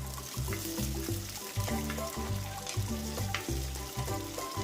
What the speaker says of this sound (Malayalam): 2 പച്ചമുളക് കീറി ഇട്ട് കൊടുക്കുന്നുണ്ട്. അതുകൂടെ ചേർത്തൊന്ന് വഴറ്റിയെടുക്കാം.